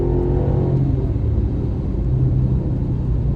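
A Mercedes S-Class coupe accelerates hard from a launch, its engine giving a loud, sustained low rumble that settles into a steady roar with no talking.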